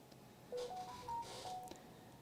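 A new phone sends a short series of faint dialing tones, about five brief pitched beeps one after another over low room noise.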